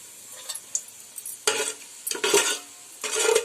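A spoon scrapes and stirs in a pan of frying ingredients on medium heat until they turn brown, giving bursts of metallic clatter and sizzle in uneven strokes, close and without talk.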